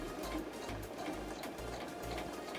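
A sewing machine stitches fabric for a coin purse with a quick, steady mechanical rhythm of needle strokes, close and fairly quiet, without talk.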